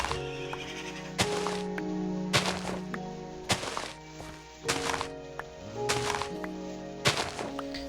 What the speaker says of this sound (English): Can I get him to whinny?